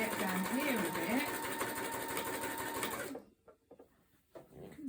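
A sewing machine back-stitches across a baby memory quilt, running in a loud, steady, even whir for about three seconds before cutting out, followed by quieter scattered handling noises.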